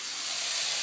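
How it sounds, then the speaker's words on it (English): A steady, loud hiss of rolling boiling water and steam as pasta is dropped in fills the whole moment, close by and unbroken. "So I've just thrown the pasta into the boiling water"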